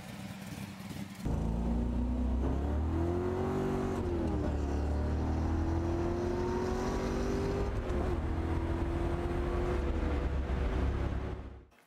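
A 1963 Pontiac Tempest hot rod with a 509 Chevy big block and Richmond 5-speed fires up and idles loud and close, a deep steady rumble with a few revs swelling and settling before cutting off.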